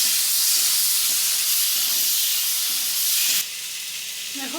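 Ginger and garlic sizzling in hot oil in a pan along with green chillies and a little cumin powder for a home-style ghugni, a loud, steady, close hiss with faint clinks, easing slightly toward the end.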